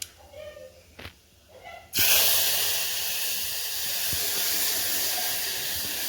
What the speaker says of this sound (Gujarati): પહેલાં આપણે તેલમાં નાખશું રાઈ. રાઈ નખાઈ જાય એટલે આપણે નાખશું